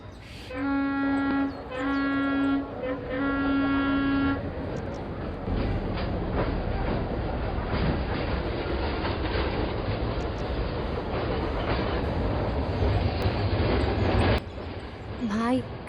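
A train departing a station platform on a Rohri to Karachi service: horn blasts at first, then a steady loud rumble and rattle of rolling wagons, with a faint squeal near the end.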